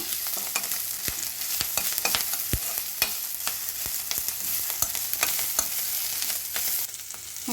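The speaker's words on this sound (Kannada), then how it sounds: "ಇವಾಗ ಸ್ವಲ್ಪ ಕೊತ್ತಂಬರಿ ಸೊಪ್ಪು ಇದನ್ನು ಇದ್ರ ಜೊತೆ ಫ್ರೈ ಮಾಡ್ಕೊಳ್ಳೋಣ" Coriander leaves frying in a pan with bitter gourd gojju ingredients, a steady sizzle broken by frequent sharp clicks of stirring against the pan, close and without talk.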